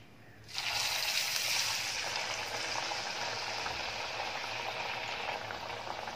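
Chicken vadas dropped into very hot oil burst into a loud, steady frying hiss that starts abruptly and carries on evenly, close by with no voices.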